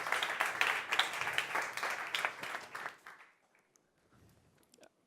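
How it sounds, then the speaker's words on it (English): A startup-competition audience at the South Summit smart mobility stage breaks into applause, a dense burst of clapping for about three seconds that thins to scattered claps and then quiet. "Big applause."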